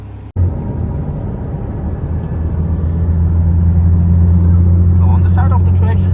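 A Porsche 911 GT3 RS on a race track, its engine rumbling steadily and building in loudness after a sharp cut near the start, heard from inside the car with a faint voice near the end.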